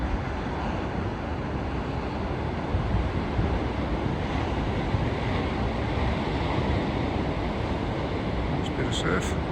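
Steady roar of ocean surf breaking along the Tasmanian coast at Maingon Bay near Port Arthur, a continuous dense wash mixed with wind buffeting the microphone, with no pauses between waves.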